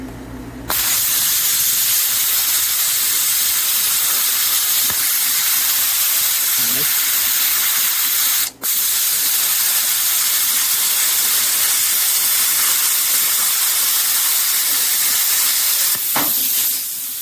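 Plasma cutter slicing metal, fed by a small air compressor, producing a loud, continuous hiss and roar that runs almost the whole time and breaks off for an instant partway through, with a voice faintly under it.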